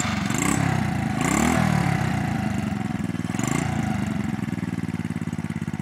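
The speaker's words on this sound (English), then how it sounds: "That exhaust system sounds good." A Honda C70 custom street cub motorcycle idles through its exhaust with a steady low putter, the engine swelling briefly in a couple of gentle blips before settling back, close and alone.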